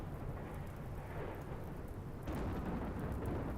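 Rain and thunder in the game RimWorld: a dense, steady hiss of rainfall with a deep rumble of thunder that swells louder partway through.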